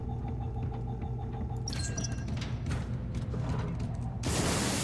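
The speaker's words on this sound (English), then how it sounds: "We're unlocking the door." A heavy sci-fi door mechanism in Space Hulk: Deathwing clanks and grinds open with ratcheting, gear-like clicks over a low rumble, ending in a louder rushing hiss.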